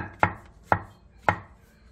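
Three crisp knife chops on a cutting board as halved king oyster mushrooms are cut into thin 0.3 cm strips, evenly spaced about half a second apart, close and clear with no voices.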